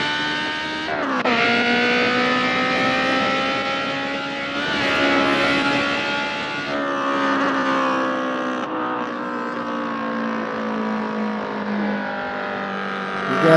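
Toyota Supra engine in a car racing game, revving continuously with rising and falling pitch through gear changes, a loud steady drone with no talk.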